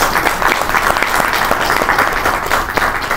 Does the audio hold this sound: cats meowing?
no